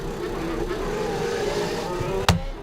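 YRT-powered DMAD race car on the Jerez circuit in preseason testing, a steady loud engine drone with rising and falling tones, ending in a sharp brief burst.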